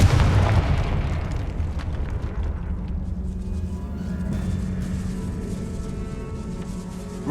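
A loud explosive boom from a Confringo fire spell in the video game Hogwarts Legacy bursts at the start, then trails into a long rumbling decay with a low lingering hum.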